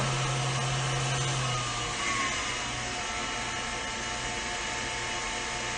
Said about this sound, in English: I've got my mixer on its lowest speed here